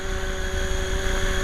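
A Sonic Turkey HK500 GT model RC helicopter flies nearby, its small motor and spinning rotor giving a steady, loud, continuous whine with a strong fixed tone, heard alone for a second and a half.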